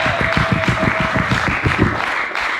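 An audience claps along in a steady, rhythmic beat while a game show prize wheel spins, the clapping loud and close throughout, with a thin sustained tone riding above it early on.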